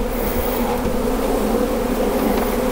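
Honeybees swarm loudly around an opened hive, their dense, steady buzzing close and continuous, with no voices over it.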